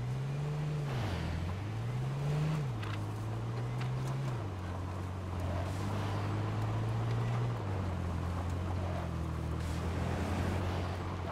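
A car engine drives in the video game H1Z1, droning steadily and revving up and down in pitch several times before settling, with a faint rush of wind behind it and no talking.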